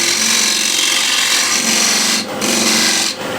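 A spindle gouge cuts the foot of a large wooden bowl spinning on a lathe, giving a loud, continuous rasping hum that dips briefly twice as the tool lifts off the wood.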